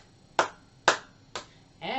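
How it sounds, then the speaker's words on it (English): Hands clap three times, sharp and evenly spaced, close and fairly loud, during a children's action song, followed by the start of a voice. "Clap your hands,"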